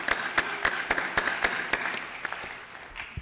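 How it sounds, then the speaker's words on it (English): Scattered applause from an evening event audience, a handful of distinct claps standing out over a soft wash that fades toward the end, fairly faint and without talk. "Let's give him an applause"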